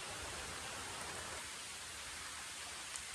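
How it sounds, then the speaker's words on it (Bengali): Steady rain falling outdoors during a fishing outing, a dense even hiss of drops on surfaces, soft and unbroken throughout with no voices. "পুরো বৃষ্টি আসছে, পুরো বৃষ্টির মধ্যে আমরা মাছ মারছি আজকে"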